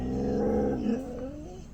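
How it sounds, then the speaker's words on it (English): A small puppy growls close up, one low rumbling growl lasting under two seconds and tapering off, heard alone without talk. "And I know this little puppy dog"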